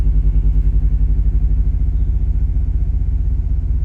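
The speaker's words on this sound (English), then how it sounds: "I started the car." A BMW X3 engine running after a fuel pump replacement, a loud, close, steady low rumble with a regular pulsing throb and no voices.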